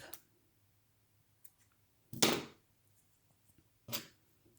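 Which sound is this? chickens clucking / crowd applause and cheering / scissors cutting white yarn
scissors cutting white yarn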